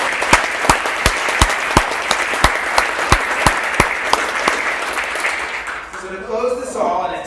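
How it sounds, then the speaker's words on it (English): A school audience at a state of the school presentation claps in a sharp, rhythmic round of applause lasting several seconds, then fades as a speaker's voice resumes. "So let's give a round of applause for her."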